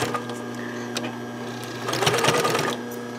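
A sewing machine stitches along the edge of a towel, a close, steady, humming drone that rises into a louder, busier run of stitching near the end.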